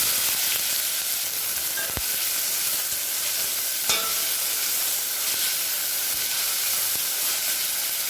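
Chopped onions frying in a pan with cinnamon, clove, cardamom and fennel seeds, a constant bright sizzle with a couple of sharp clicks of a spoon, close and steady with no voices.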